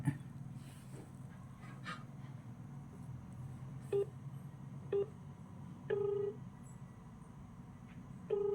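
Mobile phone keypad tones sound as a call is placed to a GSM digital starter for a three-phase farm pump, a few short, clear beeps spaced about a second apart over a low background hum.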